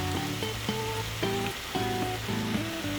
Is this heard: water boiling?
yes